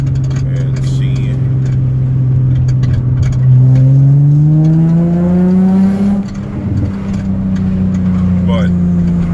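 A Nissan 350Z engine idles and then revs, its tone climbing smoothly and settling back, loud and close, with a person talking over it.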